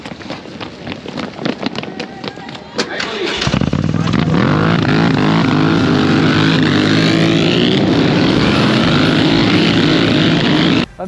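A Moto Guzzi racing motorcycle derived from the Le Mans, at the Misano circuit, starts with scattered mechanical clatter before the engine catches and holds a loud, steady, close roar that runs to the end.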